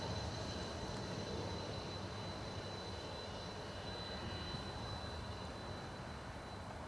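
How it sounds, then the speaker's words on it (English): An Aer Lingus Airbus A330 arriving from Orlando at Dublin Airport, heard as a steady, distant jet engine roar with a faint high whine, continuous and even, no voices. "We have another A330 Aer Lingus from Orlando."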